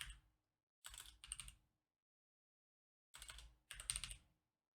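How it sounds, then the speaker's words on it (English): Typing on a computer keyboard, close and fairly quiet, in two bursts of rapid key clicks separated by a pause of silence. "I'm gonna type out the guess."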